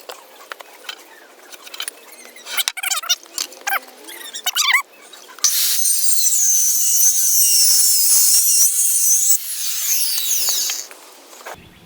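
Pallet wood boards for a workbench are cut with a power saw in one loud, steady stretch of about five seconds, preceded by scattered knocks and scraping as the board is handled, before the blade winds down.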